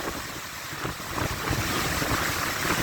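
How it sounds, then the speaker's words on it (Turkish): Strong wind roars steadily against the microphone at a waterfall, a loud broadband rush with gusts building toward the end, with rushing water underneath. "Şu an çok feci bir rüzgar var."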